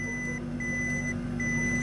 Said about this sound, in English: what's that beeping coming from the booth over there?